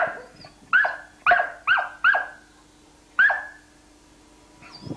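Stray dog brought to an animal shelter, kept on a chain with a worn collar, barks in a series of five or six loud, close yelps with short pauses between them and a faint whine near the end.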